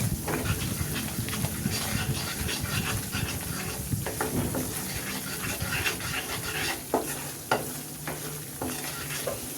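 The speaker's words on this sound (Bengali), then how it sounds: "এটাকে আমি ভালো মতো কষিয়ে নিচ্ছি আবার।" Egg and spinach curry mixture being sautéed and stirred in a frying pan, a continuous close sizzle with frequent scraping stirs and sharp spatula taps throughout, no talking.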